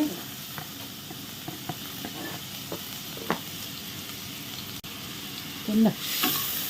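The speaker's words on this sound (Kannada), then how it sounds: "ಚೆನ್ನಾಗಿ ಫ್ರೈ ಮಾಡಬೇಕು ಫ್ಲೇಮನ್ನು ಸ್ವಲ್ಪ ಸ್ಲೋ ಇಡಿ" A large chopped onion frying in hot oil over a low flame for a Mangalore-style prawn ghee roast, a continuous close sizzle broken by a few light clinks and stirring scrapes, with a louder hiss near the end.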